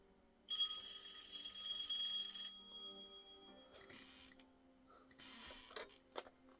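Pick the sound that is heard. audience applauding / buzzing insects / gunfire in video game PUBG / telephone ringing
telephone ringing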